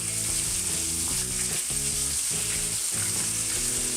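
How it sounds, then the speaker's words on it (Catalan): Hot oil sizzles and crackles steadily as salt cod pieces fry in a pan, with faint rhythmic low tones in the background. "els fregim en oli ben calent"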